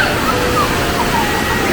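Water rushing steadily over rocks at the top of a jungle waterfall near Mathugama, a close, continuous wash of flow.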